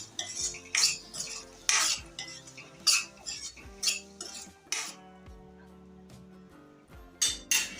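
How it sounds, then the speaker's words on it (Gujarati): Metal spoon scraping and clinking against a pan while stirring turmeric and salt into spiny gourd (kantola) pieces, repeated strokes close by, with brief pauses between bursts and no talking. "હળદર અને મીઠું નાખીને આપણે સરસ રીતના મિક્સ કરી લઈશું"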